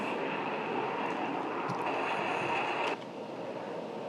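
F-16 jet engine roar in the DCS flight simulator, a steady loud broadband rumble with a whining tone that drops slightly in level near the end.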